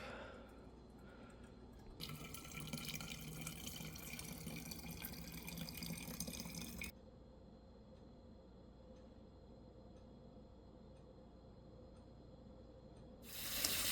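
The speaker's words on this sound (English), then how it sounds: "I just fill up the rest of the thing with some cold water" Cold tap water runs into a kombucha brewing container, a steady gushing pour for several seconds that then cuts off to quiet background before a brief burst at the end.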